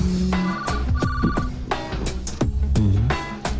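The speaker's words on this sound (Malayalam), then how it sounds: "Phone anti phone." A telephone rings in a comedy film scene, its repeated electronic tones sounding close and fairly loud against a busy background with no speech.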